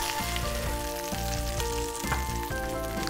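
Veal shank (osso buco) sizzles and crackles steadily in a hot frying pan, browned but not cooked through, with a dense hiss of frying underneath some faint rhythmic background tones.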